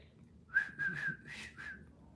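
A short whistled melody of several quick, bright notes, like a phone alert tone, fairly close and clear against a quiet background.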